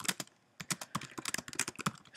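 Fast typing on a computer keyboard while writing a Java program, a close, busy patter of key clicks that pauses briefly, then runs on in uneven bursts with no talk.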